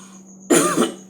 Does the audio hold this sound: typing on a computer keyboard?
no